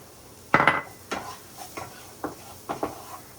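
A utensil stirring scallion whites in a pan gives a series of close knocks and scrapes, one loud clack followed by softer irregular taps, over a faint sizzle.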